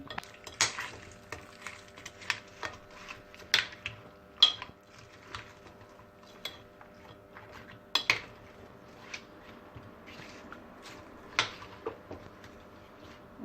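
Utensil stirring chopped onion with lemon juice and chermoula in a bowl, a run of light scraping clinks and taps with a few sharper knocks, close and fairly quiet, with no talking.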